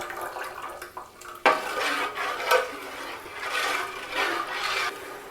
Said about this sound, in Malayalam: നമ്മുടെ ശർക്കര തിളച്ച് വരുന്നുണ്ട്. നമ്മളൊന്ന് ഇളക്കി കൊടുക്കണം, അടിക്ക് പിടിക്കാതിരിക്കാൻ.